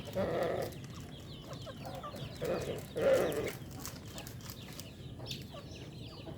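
Rhode Island Red chickens clucking at a moderate distance, short bursts of throaty calls repeating every second or two over a low, steady background hum.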